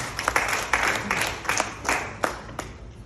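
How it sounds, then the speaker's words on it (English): Scattered applause from a stand-up comedy audience, a few bursts of clapping rising and fading in quick succession at moderate volume, thin rather than a full ovation. "Clap for me, guys."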